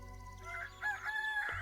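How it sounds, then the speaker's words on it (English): A rooster crows in the video game Tavern Talk, a single drawn-out, slightly tinny cock-a-doodle-doo over a soft background music bed, moderately loud and alone without talk. "I love the rooster."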